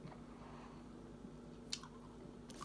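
Chewing on a hard vintage peanut butter candy, close and quiet with a few sharp crunching bites and soft mouth sounds, no speech.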